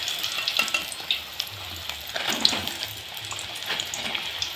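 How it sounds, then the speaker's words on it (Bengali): Vegetable pitha frying in hot oil, a steady close crackling sizzle with scattered pops and stirring, heard alone with no talk. "তেলটা গরম হয়ে গেছে, এখন আমি পিঠেগুলো ভেজে নেব"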